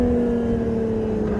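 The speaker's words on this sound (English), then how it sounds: "Listen to those downshifts, boys." Lotus Evora 400 engine held at a steady droning pitch with a strong tonal hum inside the car, loud and continuous, with no distinct shift blips.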